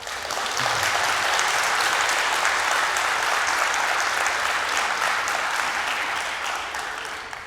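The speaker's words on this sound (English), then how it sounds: "All others, can you clap for them?" Dense audience applause for children at a lecture event in Melbourne, loud and sustained, swelling early and tapering slightly toward the end.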